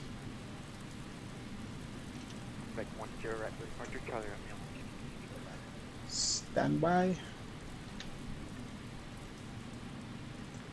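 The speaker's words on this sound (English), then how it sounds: "Oh, looks like it's about to rain." Rain falls in Microsoft Flight Simulator 2020 around a Boeing 777-300 airliner on a San Francisco to Portland flight, a steady hiss that holds throughout while someone speaks briefly over it.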